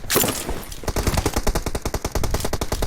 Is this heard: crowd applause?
no